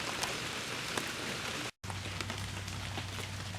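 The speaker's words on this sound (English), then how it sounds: "you can tell there's a rainstorm moving through" Steady rain falls outdoors as a rainstorm moves through, a dense, even patter and hiss with a low hum underneath, briefly cut to silence midway, then resuming.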